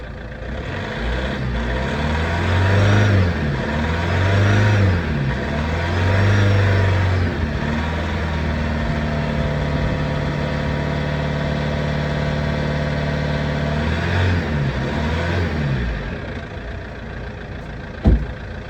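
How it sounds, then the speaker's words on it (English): A cold Vauxhall Astra J engine idles roughly, then is revved several times in quick surges before settling back to a steady idle; no talking. "let's just see what happens when I give it a few revs"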